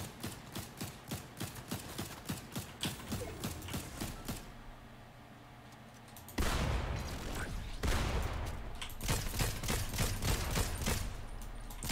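Video game gunfire comes as rapid bursts of sharp shots at a steady clip, faint and mixed into the game audio. A short lull follows, then a louder, denser stretch of firing returns.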